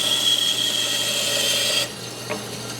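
A bandsaw cuts through wood while making shop-made clamping jigs, a steady whining buzz that cuts off abruptly near the end, leaving a quiet room with a faint knock.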